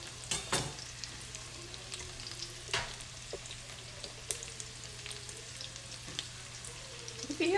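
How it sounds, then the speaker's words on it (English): Chopped garlic and cabbage sautéing in a pan give off a soft, steady sizzle and crackle, with occasional stirring scrapes and pops, quiet and close. "Saute that too."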